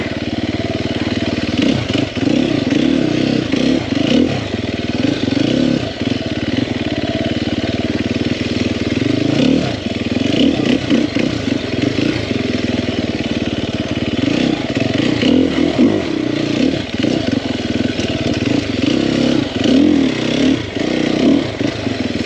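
A 2021 Sherco 300SEF four-stroke dirt bike being ridden, its engine droning loudly and continuously with repeated revving swells and mechanical clatter, close and without talk.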